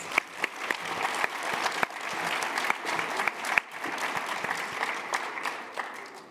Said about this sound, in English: Give our panelists one more round of applause